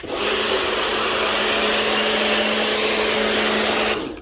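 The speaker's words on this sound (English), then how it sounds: "Right, stage 2 now. Really nice thick snow foam." A pressurised snow foam sprayer coats a Peugeot 207cc in thick foam, producing a steady, loud, close hiss with a low motor hum beneath it. The sound runs unbroken for about four seconds, then cuts off abruptly.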